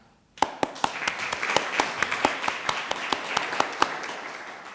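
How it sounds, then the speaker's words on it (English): Audience applause at a design conclave presentation in 2024: a crowd bursts into clapping after a brief quiet start, with a few sharp, loud claps standing out in a roughly steady rhythm over the continuous wash of hands. "I hope you get used to the applause because I'm going to do this quite a lot during the presentation."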